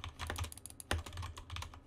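Rapid typing on a Corsair K95 Platinum mechanical keyboard with Cherry switches: a dense, close run of crisp key clicks with one sharper, louder keystroke near the middle, and no voices.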